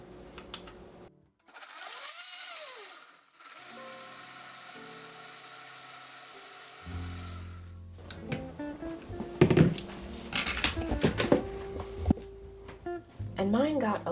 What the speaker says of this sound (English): So I'm going to start blending our mixture.